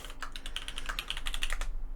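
Rapid, uneven keystrokes on a computer keyboard, close and crisp, in a continuous burst that stops abruptly near the end, with no voices over it.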